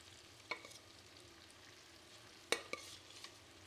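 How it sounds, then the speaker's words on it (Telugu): Cooked rice is stirred into egg fried rice in a pan, with soft scraping and light sizzling plus a few sharp utensil clicks against the pan, quiet and close with no talking. "రైస్ వేసుకుని బాగా కలుపుకోవాలి."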